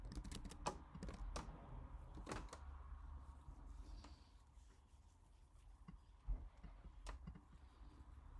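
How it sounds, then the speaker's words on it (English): Keys clatter on a computer keyboard as a Firebase init command is typed, several quick irregular bursts of clicks over a steady low background hum, close and fairly quiet. "I'm going to just type in Firebase init."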